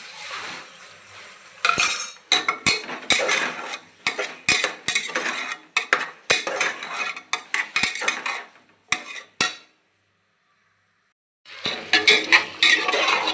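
A spoon stirs masala rice with turmeric in a metal pot, making rapid scraping clinks and knocks in irregular bursts. A short silent pause comes before the stirring resumes, loud and close.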